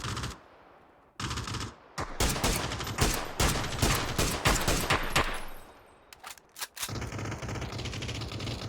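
Rapid bursts of automatic gunfire in a shooting video game, loud and close, with dense crackling volleys between brief pauses and a low background rumble.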